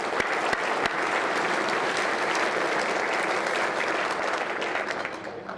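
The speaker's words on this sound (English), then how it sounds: "Let's give them another round of applause." A large audience at a mayor's state of the city address in Torrance, California claps steadily, a few sharp individual claps standing out at the start before the broad applause slowly fades.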